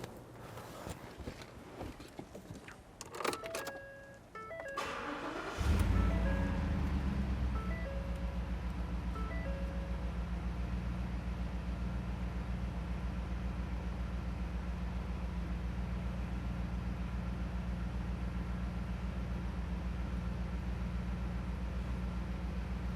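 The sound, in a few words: 2014 Ford Raptor V8 engine starting and idling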